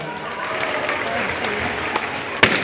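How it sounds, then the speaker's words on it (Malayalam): A crowd at a Christmas night event claps steadily throughout, a dense, even patter of hands with one sharp louder clap near the end. "ഒരു നല്ല കൈയടി കൊടുത്താട്ടെ"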